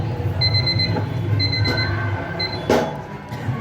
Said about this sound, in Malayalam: ഇനി അലാറം അടിക്കുന്നടി.